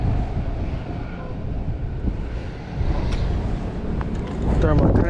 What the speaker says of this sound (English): it's always windy before it comes in